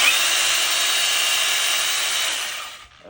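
A cordless battery-powered saw whines loudly and steadily for close to three seconds, then spins down and stops near the end, with no voices over it.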